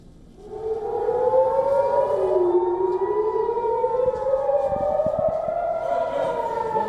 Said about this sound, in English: as sirens blared across the city